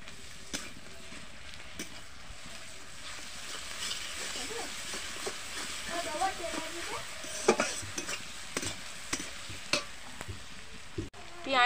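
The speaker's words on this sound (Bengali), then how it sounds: "পেঁয়াজ রসুন ভাজা হয়ে গেছে," Onion and garlic fry in a pan of spiced oil for a chicken curry, with a constant low sizzle and frequent scraping clicks of a spatula against the pan close by.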